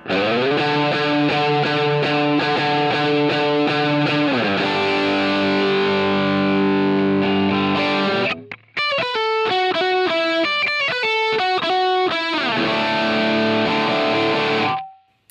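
Heavily overdriven electric guitar through a Line 6 Helix with amp drive at 10 plays sustained chords, then choppy rhythmic riffs after a brief break, loud and distorted with no talking.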